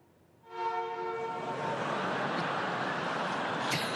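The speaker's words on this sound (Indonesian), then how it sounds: "Petenis Mira Ardreva dikerjai oleh klakson kereta yang membuat pecah konsentrasi saat servis bola." A train horn blares during a professional tennis match in Brisbane, Australia, starting abruptly after a brief quiet and holding as a loud, sustained multi-tone blast with a broad rushing roar beneath it.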